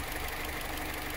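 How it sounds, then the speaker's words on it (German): An Opel Combo engine idles roughly and shakes, giving a steady, close, moderately loud rumble with an uneven, knocking pulse and no pauses. "Warum der Motor sich dann so schüttelt, keine Ahnung."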